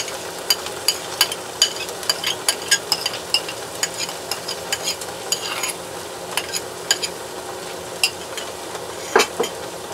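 Tomato sauce goes into a pan of softened sautéed onions, sizzling steadily while a spoon scrapes and taps the pan in a quick, irregular rhythm, close by and without voices.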